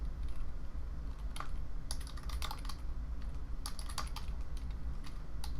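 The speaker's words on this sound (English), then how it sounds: "So I'll type that name here." Keys clack on a computer keyboard in two short bursts of quick typing, close and fairly quiet over a low background hum.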